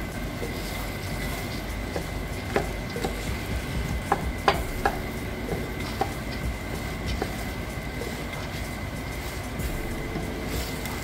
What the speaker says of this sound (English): we're also going to fry this rice